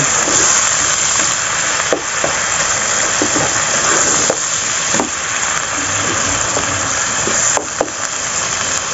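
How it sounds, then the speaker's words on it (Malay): Hot water poured into a pan of rice vermicelli being stir-fried, giving a steady close hiss and sizzle throughout, with a few brief clinks and scrapes. "kita taruh air panas sikit nak bagi dia sebati bahan -bahan."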